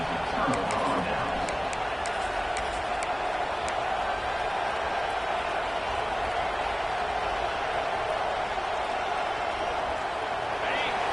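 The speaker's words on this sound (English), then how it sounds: "It's early, but this crowd is fired up. Listen to this noise here." A dense, steady roar of a large stadium crowd cheering in the video game NCAA 26, constant and loud, with faint higher shouts scattered through it.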